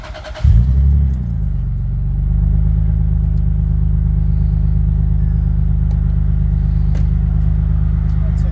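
Twin turbo Toyota Aristo fires up with a sudden loud burst from its exhaust, then settles into a deep, close, steady rumbling idle.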